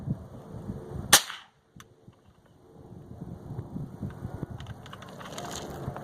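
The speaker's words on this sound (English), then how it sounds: "Let's see how the rifle functions. Suppressed." A single suppressed shot from an Adams Arms piston-driven AR-15 rifle, a sharp loud crack followed by a brief hush, then outdoor background noise.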